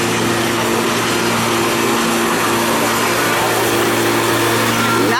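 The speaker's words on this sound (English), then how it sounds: "we're polishing and repolishing concrete here" A concrete polishing machine runs steadily at a trade show floor, a loud continuous motor whine with a low droning hum, unbroken for the whole stretch amid busy background noise.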